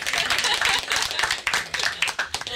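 A small group claps after a talk, quick uneven hand claps close and fairly loud, with some voices mixed in as the applause fades toward the end.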